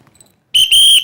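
A single sharp, shrill whistle is blown as a starting signal at a competition, two loud close blasts in quick succession after a brief quiet moment.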